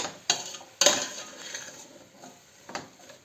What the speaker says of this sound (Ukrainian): І будемо мішати. Яблучка вже вбрали цукор і масло.